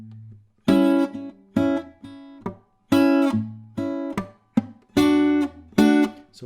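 A guitar phrase in A mixes bright picked notes with percussive muted thwacks, played close and clear in a steady, syncopated rhythm of about eight attacks with no talking.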